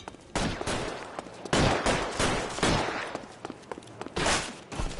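Bursts of gunfire in the video game L.A. Noire crack out in several loud volleys, mixed with single shots, spread unevenly across a firefight with short gaps between them.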